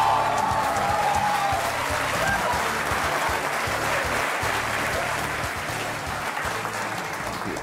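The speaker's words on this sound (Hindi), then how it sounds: "और ये तालियां बजते रहे" Studio audience applause on an Indian television courtroom talk show, loud dense clapping that holds steady for the whole stretch, with a faint crowd murmur beneath.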